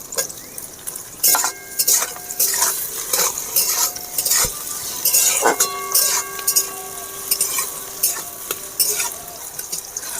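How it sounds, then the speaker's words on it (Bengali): Green chillies and chopped tomatoes go into a pan of frying chicken for chicken do pyaza, with a low sizzle under repeated metal spoon scrapes and clinks against the pot. "এবারে কাঁচা লঙ্কাগুলো দিয়ে দেব। কেটে রাখা টমেটো দিয়ে দেব।"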